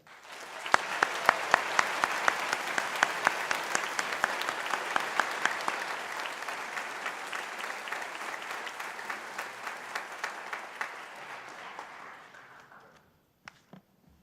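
Applause from the audience at a university Faculty of Science graduation ceremony starts up and holds as a dense, sustained wash of clapping for about twelve seconds. A few scattered claps follow after it dies away.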